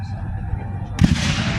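A single cannon shot at a Civil War battle reenactment at Old Bedford Village booms sharply after a stretch of murmuring voices, followed by a rolling broadband rumble that fills the rest of the moment.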